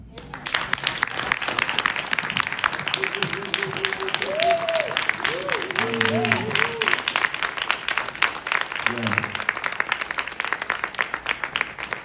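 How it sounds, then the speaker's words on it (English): A large crowd applauds steadily and loudly throughout, with voices calling out over the clapping. "can we please applaud this man?"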